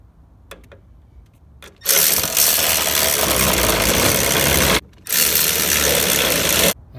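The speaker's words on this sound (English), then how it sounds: "Now the last thing to do is to put the 3 bolts back on the top of the strut and torque these down" A power tool drives the strut top bolts on a 2014-2018 Silverado/Sierra front strut, making two loud sustained whirring bursts separated by a short pause, after a few faint clicks of handling.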